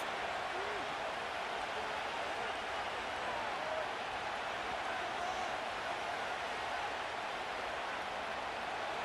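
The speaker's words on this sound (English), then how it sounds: "this crowd doing their best to make a lot of racket" Stadium crowd in the NFL 26 video game during a Raiders versus Seahawks preseason game, a dense, steady roar of cheering and noise that holds at a constant level throughout, with no distinct announcer voice standing out.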